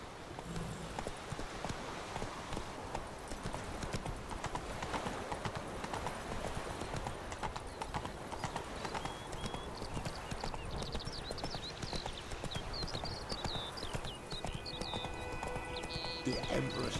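Roach, Geralt's horse in The Witcher 3: Wild Hunt, gallops with steady rhythmic hoofbeats that carry on throughout, with game music and faint voices under them.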